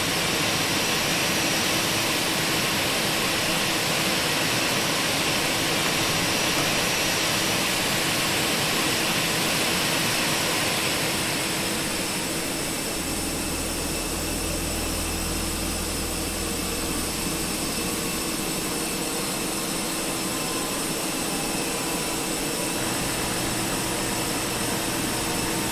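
An Airbus A320 jet engine in a flight simulator spins down from a loud, broadband whine, the roar easing around midway and leaving a quieter hum with a low rumble lingering afterward.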